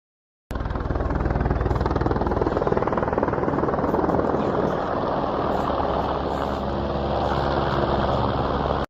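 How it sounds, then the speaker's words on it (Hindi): A helicopter at the Vaishno Devi helicopter stop runs steadily after a brief silence, a loud, dense engine and rotor roar with a fast pulsing beat that stays close and constant. "ये हेलीकॉप्टर का वो स्टॉपेज है, जो हेलीकॉप्टर से आते हैं वो लोग यहाँ रुकते हैं।"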